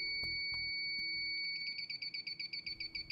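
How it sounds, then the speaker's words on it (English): GasMate combustible gas leak detector switching on: a few sharp clicks, then a steady high electronic tone that turns into a fast pulsing beep as it warms up, close and alone. "Start by powering on the leak detector and make sure GasMate is set to high sensitivity"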